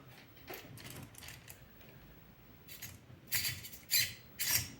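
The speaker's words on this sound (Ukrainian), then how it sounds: "Ну, серво працює, все добре, треба трошки буде підкоригувати." The servo of a WPL C24-1 RC car fitted with a metal gearbox whirs in several short bursts, close and faint at first, then louder in the last few seconds.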